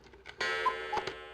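An OS/2 system sound effect plays briefly, a quiet alarm-like run of ticking chimes with a few brighter pings, alone and short.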